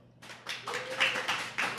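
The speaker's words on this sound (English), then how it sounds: "Audience, I want you to clap if you're Marvel or DC." A live geek-night audience at a Marvel vs DC event claps in scattered bursts to vote in a show-of-hands poll, with a few loud clusters of claps close by.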